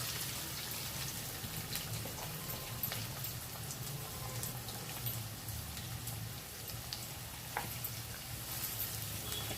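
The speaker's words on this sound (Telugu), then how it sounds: "ఈ ఆనియన్ కూడా వేసుకోవాలి" Chopped onion sizzling in hot oil in a frying pan for an egg curry, a steady, soft crackling hiss with faint stirring clicks throughout.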